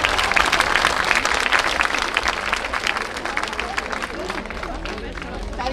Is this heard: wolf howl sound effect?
no